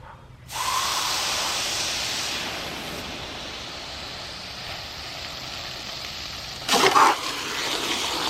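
Water spraying hard from a brass twist garden hose nozzle outdoors, a loud steady hissing jet that starts abruptly and runs on with a brief surge partway through.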